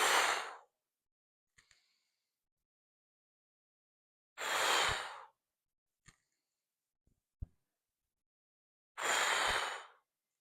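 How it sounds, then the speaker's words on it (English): Three loud, close breathy exhales spaced about four seconds apart during a strength-training press, with faint clicks and soft metallic taps between them, and no talk. "So I'm going to breathe so you can hear it"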